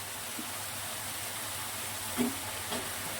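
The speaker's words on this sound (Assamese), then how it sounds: "এতিয়া মোৰ মছলাটো ভাজা হৈ গৈছে, তেলটো ওপৰত আহিছে।" Spices fry in oil for a cauliflower stalk curry, a steady soft sizzle with a few faint stirring clicks, close but quiet.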